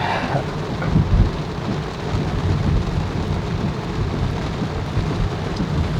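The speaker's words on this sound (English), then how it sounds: "the rain has intensified again." Steady, dense downpour of heavy rain heard from a car near Cologne, Germany, loud and continuous throughout, with a low rumbling wash underneath.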